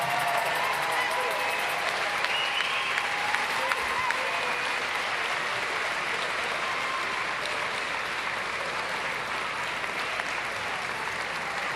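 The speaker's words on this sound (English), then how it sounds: "Give her the round of applause that she" Mourners at a funeral applaud a caregiver, a large crowd clapping steadily and continuously, with a loud, even sound that fills the hall.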